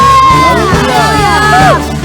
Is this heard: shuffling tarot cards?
no